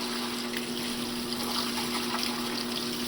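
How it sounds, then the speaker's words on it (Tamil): Water pours steadily into a top-loading washing machine in an American home, a constant hissing rush with a low hum underneath, loud and continuous throughout with no voices. "ஓகே தண்ணி வர ஆரம்பிச்சிச்சு"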